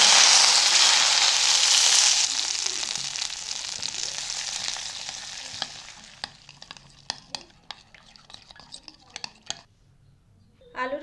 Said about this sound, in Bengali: তেল খুব ভালোভাবে গরম হয়ে গেছে গ্যাসের ফ্লেম বন্ধ করে সসের মিক্সচারের উপরে ঢেলে দেব